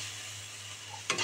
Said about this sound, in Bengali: এই দেখো, এবার জল দিয়ে দিলাম।